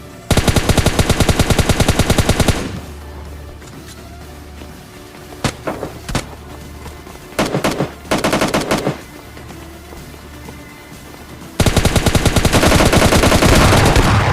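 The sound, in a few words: shotgun gunfire in video game BGMI/PUBG Lite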